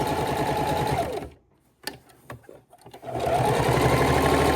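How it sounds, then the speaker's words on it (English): A sewing machine stitches fabric drink coasters in fast, steady bursts, backstitching over a line, stops briefly with a few small clicks, then starts stitching again. "we're sewing right back on top of that line we've already done"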